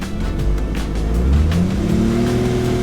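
Car engine revving up as the clutch is let out while pulling away, with a rising engine tone over a steady low drone, loud and close throughout, no talking.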